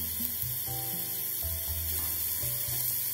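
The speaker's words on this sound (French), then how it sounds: "on ajoute maintenant les crevettes, on les laisse bien cuire quelques minutes" Shrimp cooking in a pan with softened vegetables for a bisque give a soft, steady sizzle, quiet and close, beneath a gentle musical backing.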